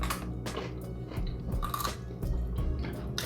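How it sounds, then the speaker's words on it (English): Close crunching bites and wet chewing on a roasted baby carrot glazed with habanero jelly, a few distinct crunches followed by steady mastication, heard alone up close. "You want to take a bite of this carrot? This is the habanero jelly roasted baby carrot that we got from the garden."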